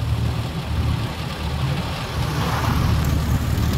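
Ford Model T engine running steadily with the throttle eased back, a loud, continuous low rumble with a mechanical clatter and no talk over it.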